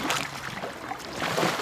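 A raft paddle makes a short forward stroke finished with a quick pry on an R1 raft, giving a brief watery swish and slosh. It runs about two seconds, close and moderately loud.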